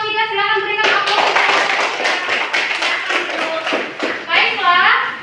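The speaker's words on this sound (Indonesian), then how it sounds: "Silakan berikan aplaus" Students in a school classroom break into brisk applause, a dense burst of close hand clapping lasting several seconds, with a voice speaking just before and children's voices mixed in at the end.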